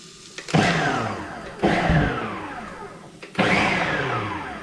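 A Ninja blender whirs in three short pulses, each burst starting loud and winding down before the next, close and without speech.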